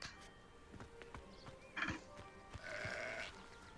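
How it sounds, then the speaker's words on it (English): Sheep bleating in the video game Hogwarts Legacy, a few short calls over a busy game soundscape with faint hoof-like clops and ambient noise, no talk. "Sheep."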